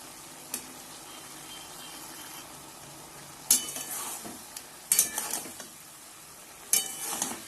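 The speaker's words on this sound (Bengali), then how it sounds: "From time to time I'll just stir it and let it dry out." Chicken and vegetable filling for stuffed buns stirred in a pan over a faint sizzle, with a few distinct clinking scrapes of a spoon against the pan at intervals.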